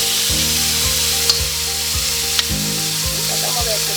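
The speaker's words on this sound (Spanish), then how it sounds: "Lo que queremos es una carne frita, no una carne sancochada." Beef frying in a hot pan for Peruvian lomo saltado gives a loud, continuous sizzle, with regular scraping stirs every half second or so throughout.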